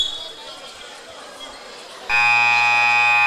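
At a high school boys' basketball game, a loud electronic buzzer blares abruptly after quiet crowd murmur and holds steady, a harsh sustained tone that ends the period.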